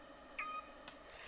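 A single short, high squeak from Pippin, a pet cat, heard close and quiet over a low background hum, with a faint click shortly after.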